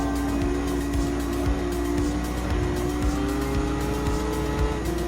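Race cars roar through a Gran Turismo 7 race in a battle for first place, with a steady, loud engine drone under faint tire squeals and no pauses.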